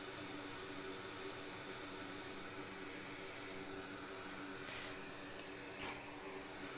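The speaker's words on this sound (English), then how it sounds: "but I do have my fume extractor going, and that's most of the noise you're hearing." A fume extractor on an electronics workbench runs steadily in the background, giving a faint, even broadband hiss with a couple of brief higher whooshes and no speech.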